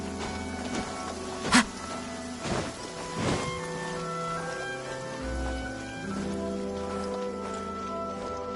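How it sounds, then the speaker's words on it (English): Heavy rain pours down in Genshin Impact as a steady, dense hiss, with soft musical tones and a few sharper sounds layered over the downpour. "Taking a stroll in the middle of a downpour certainly rouses the spirit."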